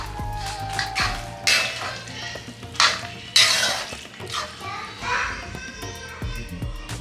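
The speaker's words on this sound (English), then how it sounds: "add the soya chunks and mix everything well" Soya chunks stirred into curry gravy in a metal pan, with repeated scraping and clinking of a spoon against the pan in uneven strokes, while children's voices and household chatter carry on in the background.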